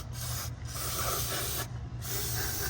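A spray can hisses over engine parts during a Chevrolet Silverado tune-up, in three steady close bursts separated by brief pauses, over a low background hum.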